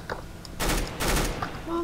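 Mag-7 shotgun blasts in Counter-Strike: Global Offensive during a gun game match, two loud broadband bursts close together, with faint game sounds around them.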